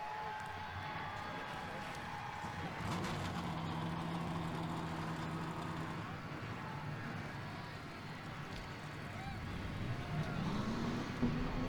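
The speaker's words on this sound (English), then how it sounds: "42 engines come to life here at the Rockingham Speedway" A field of stock cars in NASCAR Racing 2003 at Rockingham Speedway fires up its engines, making a steady, dense engine rumble with idling and revving. A faint crowd hum sits underneath.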